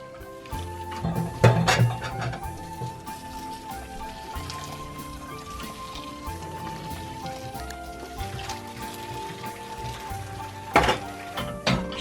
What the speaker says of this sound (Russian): Горячей водой вот так вот промываем теперь рис.